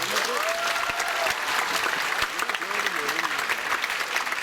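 Audience applause fills a school writers' week reading event, dense and steady for the whole stretch, with a few voices rising over the clapping.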